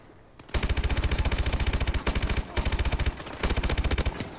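Rapid automatic gunfire in a Gun Game match of a video game, loud and close, firing in long sustained bursts with short pauses between them.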